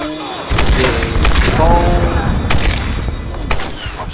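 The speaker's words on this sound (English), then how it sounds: "She has a machine gun!" Machine gun fire in Tomb Raider Definitive Edition rattles out in loud, rapid bursts over a rumbling game mix, while a player exclaims over the shooting.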